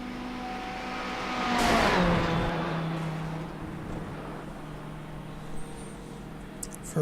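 A GTE race car at Le Mans passes with a rising then falling engine whine and a Doppler sweep, loudest around the second mark before fading into a distant hum.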